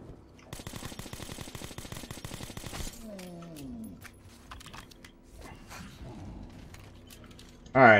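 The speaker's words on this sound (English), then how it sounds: "I got a lot of ammo for the assault rifle" A rapid sustained burst of assault rifle fire in Metro 2033 Redux rattles for about two seconds, then someone talks over quieter game sounds, with a louder crash right at the end.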